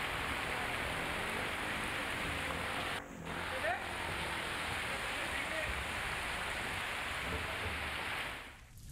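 Heavy rain pouring down over Karanja town as its streets flood, a dense, steady hiss of downpour that continues almost unbroken with only a brief dip.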